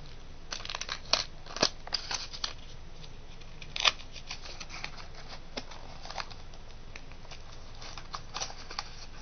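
Scissors snip a piece out of cardboard while a fingerboard box is being made: quiet, scattered close-up cuts and rustles, sparse and irregular, with no talk.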